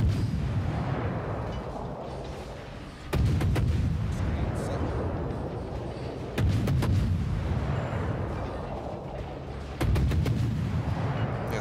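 Warship guns firing in a naval combat video game, three heavy booming salvos spaced about three seconds apart, each followed by a long rumbling decay.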